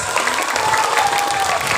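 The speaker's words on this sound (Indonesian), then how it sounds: "Tepuk tangan sekali lagi buat ibu guru kita dong yang keras" Children clapping for their teacher at an Eid al-Adha religious gathering, a brisk, dense patter of many small hands, fairly loud and steady, with faint crowd noise and a voice briefly underneath.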